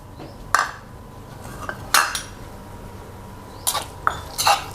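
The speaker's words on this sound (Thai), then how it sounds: "คลุกเคล้าให้เข้ากัน" Spoon stirring and scraping boiled-egg chili paste in a bowl, a few separate clinks and scrapes spread across the moment with quiet pauses between them, close and moderately loud.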